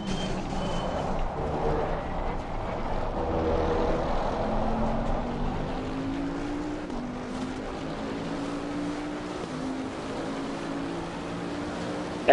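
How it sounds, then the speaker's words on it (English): Race car in a racing video game at the Zolder circuit accelerating out of the pit lane, a steady engine drone with a rising whine that climbs through the gears under a broadband background. "The car is exiting the pits, watch out."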